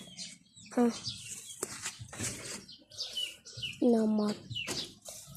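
Burga, a pet bird, calls amid a busy outdoor background, with a couple of clear tonal cooing or chirping notes standing out over rustling and other noise at moderate distance.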